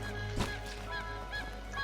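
A chicken in the video game Craftopia gives a few short clucking calls in quick succession, moderately loud against a steady background hum.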